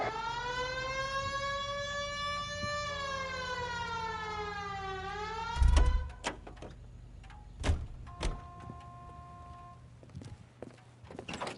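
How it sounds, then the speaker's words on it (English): Police car siren in the 1940s Los Angeles crime video game L.A. Noire, a loud steady wailing tone with rising and falling sweeps that cuts off midway, followed by a heavy thump and scattered clunks and knocks. "Hit the siren."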